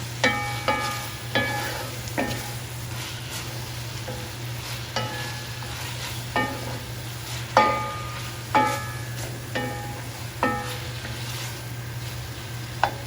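Cabbage and salt fish are tossed in a pot over high heat. A steady sizzle runs under repeated rhythmic scraping and clanging of a utensil against the metal pot, close and with no talk.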